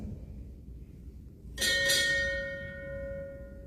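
Two quick strikes of a ship's bell at a US Navy retirement ceremony break the low ambient hum, leaving a clear ringing tone that lingers and decays.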